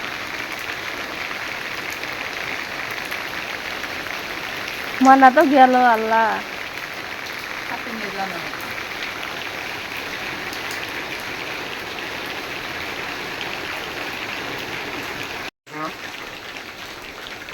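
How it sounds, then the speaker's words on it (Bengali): Steady rain falls on a surface in a continuous, even hiss throughout, with someone speaking briefly partway through and a short abrupt drop near the end. "আর এপাশ দিয়ে হলো বৃষ্টি।"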